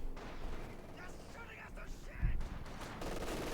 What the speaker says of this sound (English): Machine gun there in center